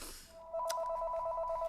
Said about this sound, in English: Apologize for that phone call there.